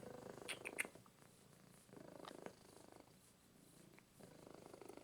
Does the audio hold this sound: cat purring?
yes